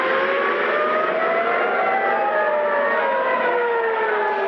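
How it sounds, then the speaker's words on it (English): A civil defense air raid siren in Israel drones with a steady wail, its pitch slowly rising and falling, loud and unbroken throughout. "In Israel, sirens are sending residents to seek shelter"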